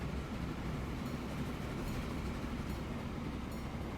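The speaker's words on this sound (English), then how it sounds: "How's this commuter train going?" A train from the Transport Fever 2 game rumbles along steadily at moderate distance, a continuous low rolling noise with faint occasional clacks and no talk.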